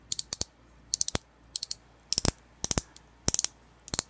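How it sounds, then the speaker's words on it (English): Sensory FX swivel pen toy, its three middle plastic sections turned by hand to make crisp, close ratcheting clicks in short bursts of several quick ticks separated by brief pauses. "the three middle ones will all swivel around and make clicking noises"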